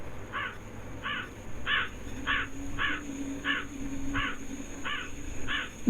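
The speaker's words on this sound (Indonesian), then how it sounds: "Burung gagak." A crow caws nine times in an even, steady rhythm, harsh calls at moderate distance over a low background hum, near an abandoned house.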